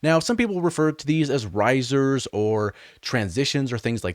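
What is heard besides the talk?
No distinct noise like a dog, phone or traffic.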